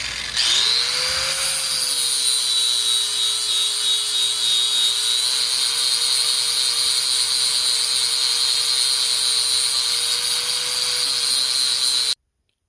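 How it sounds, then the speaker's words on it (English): An angle grinder fitted with a flap disc smooths a wooden machete handle, giving a loud, steady high whine that runs unbroken for about eleven seconds before cutting off abruptly. "now I'm going to smooth it out with the angle grinder with the flap disc"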